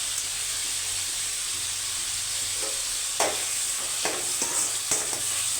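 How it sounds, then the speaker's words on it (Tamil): Ingredients with salt for a cowpea curry sauté in a pan, giving a steady close hiss of frying broken by several sharp scrapes and taps of a spoon against the pan. "நல்லா வதங்கட்டும் நல்லா வதங்கிடுச்சு"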